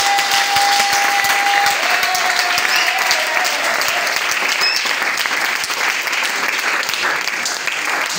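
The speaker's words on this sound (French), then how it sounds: "Est-ce qu'on peut acclamer pour le Seigneur?" A church congregation applauds for the Lord with steady, dense clapping that fills the whole stretch, loud and sustained without pause.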